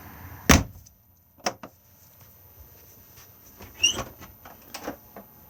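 A caravan door on a Coachman Chiltington RS is unlocked and opened, giving a sharp latch clunk followed by a few lighter clicks and knocks spaced apart in a quiet interior.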